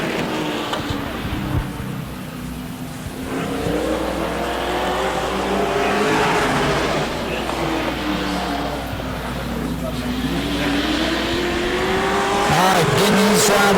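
Pro race trucks run flat out on an Auburndale track during qualifying, a loud, sustained engine roar with rising and falling pitch as they pass, and tire noise over constant crowd-level background.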